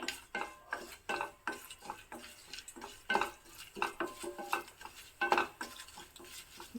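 Dried chillies, asafoetida and curry leaves crackle and pop in hot oil while a spoon stirs and scrapes the pan in rhythmic strokes, fairly quiet and close.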